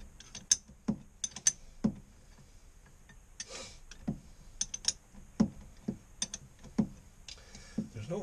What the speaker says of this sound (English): it's just slow and steady with an open end wrench